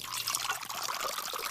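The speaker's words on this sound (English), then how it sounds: "Take a large jar, and you fill it almost to the top with water." Water poured into a large glass jar for a classroom science experiment, a soft continuous splashing trickle heard alone at low level throughout.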